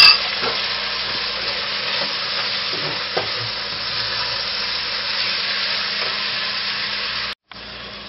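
Onion, garlic and a big spoonful of something go into a pot of browned lamb for stew, raising a steady, close, loud sizzle with occasional stirring scrapes and a brief drop near the end.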